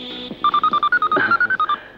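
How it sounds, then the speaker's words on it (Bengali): A telephone rings in a dramatic film scene: a quick run of a dozen or so short, bright electronic beeps, loud and close, with no talk over it. "এই ফোন এসেছে, ফোন এসেছে"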